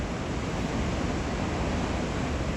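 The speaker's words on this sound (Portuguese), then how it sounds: "As cataratas são formadas pelo Rio Iguaçu, que deságua em 275 cascatas." Iguaçu Falls, where the Iguaçu River pours over 275 cascades 40 to 70 metres high, gives a steady, dense roar of falling water that stays even and unbroken throughout.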